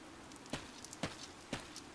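Rain falls steadily in the Fire Emblem: Three Houses video game, a soft continuous patter with three evenly spaced louder drips or taps over about two seconds, faint and without speech.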